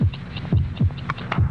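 A heartbeat sound effect from a Bufferin commercial thumps in a steady lub-dub rhythm, several deep, close beats repeating evenly.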